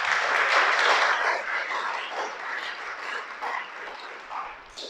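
A church congregation claps together for several seconds, steady and moderately loud at first, then thinning into scattered claps as it fades.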